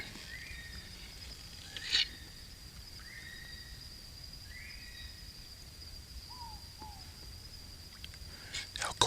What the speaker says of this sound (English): It's Kiwi calling.